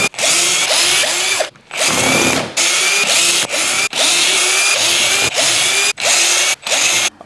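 A power drill drives screws into a garage storage rack in repeated loud whirring bursts, each run ending abruptly, with short gaps between them and the motor pitch rising as the screws seat.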